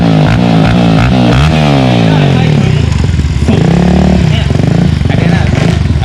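Motorcycle in first gear with an aftermarket exhaust accelerating hard, loud and close, its engine note climbing in rising harmonic sweeps that drop and climb again as it revs through the single gear.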